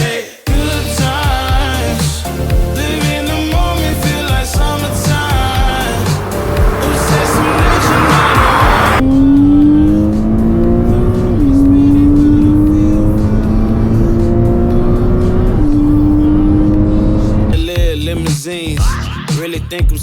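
A car on a road test drive pulls away loudly, its engine tone climbing and dropping as it works up through the gears, with steady road noise throughout.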